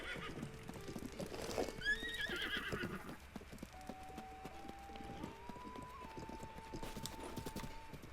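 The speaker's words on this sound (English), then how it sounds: "Come on, horsey." A horse gallops with steady clip-clop hoofbeats and a whinny in the video game Zelda: Breath of the Wild, set against soft ambient game music, with no one talking.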